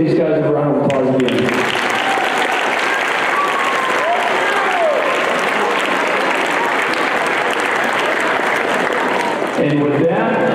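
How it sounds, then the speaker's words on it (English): A large audience at a Veterans Day presentation breaks into a loud, sustained round of applause lasting about ten seconds, with a voice briefly audible at the start and end. "let's give these guys a round of applause again"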